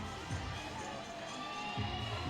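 Arena crowd at the 2019 IFSC Climbing World Championships men's boulder semi-final in Hachioji, a steady broad roar of cheering from a large audience, loud and continuous across the whole moment.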